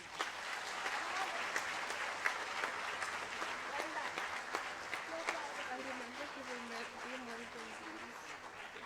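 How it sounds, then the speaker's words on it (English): Applause fills a school assembly, a dense patter of many hands clapping steadily and fairly distant, with a voice speaking faintly underneath toward the end. "But first we must hear a round of applause."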